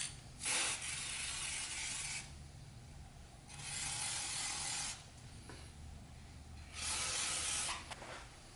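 Solvent and then dry lubricant hiss from aerosol cans onto a woodworking router lift in three separate bursts of about one to two seconds each, close and fairly quiet, with faint mechanical clicks between the sprays.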